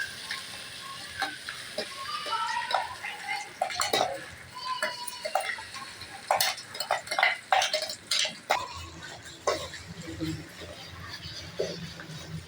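Minced chicken keema sizzles in ghee with curry leaves and spices while a utensil scrapes and clatters against the pan in irregular strokes, close by and fairly quiet.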